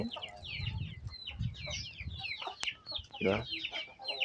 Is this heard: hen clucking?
yes